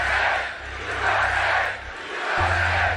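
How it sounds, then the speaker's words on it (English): A large crowd at a Trump rally in Butler, Pennsylvania roars in rhythmic waves of chanting and cheering, loud and close, over a pulsing low music beat. "This is a big, beautiful crowd."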